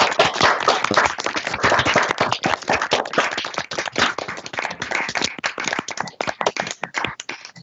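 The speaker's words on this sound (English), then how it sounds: "let's give this panel a big round of applause" Applause from a small group of people for a spring 2020 university honors thesis symposium panel, many separate hand claps forming a dense, steady burst that thins out toward the end.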